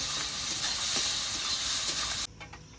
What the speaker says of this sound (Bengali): এরপর পেঁয়াজটাকে সুন্দর করে হালকাভাবে একটু ভেজে নেব